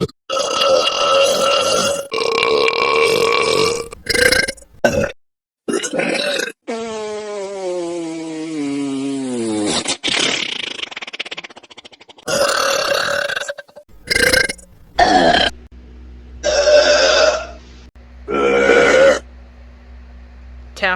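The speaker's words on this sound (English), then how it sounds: "I can feel the vibration from your burp, and it does not stink." Loud, drawn-out burps from animated cartoon characters, several separate belches in a row with short gaps between them, one long stretched burp rising and falling in pitch near the middle.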